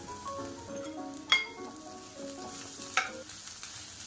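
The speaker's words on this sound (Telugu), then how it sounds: "ఇది ఇలా ఫ్రై అయితే సరిపోతుంది." Green beans frying and being stirred in a pan, a soft steady sizzle with two sharper scrapes or clinks of a spoon against the pan, close by and fairly quiet, no voices.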